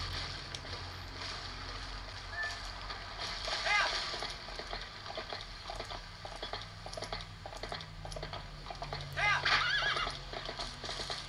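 A horse in a video game whinnies twice, loud and shrill, over steady clip-clop of hooves and a low ambient game soundtrack, with someone talking at times.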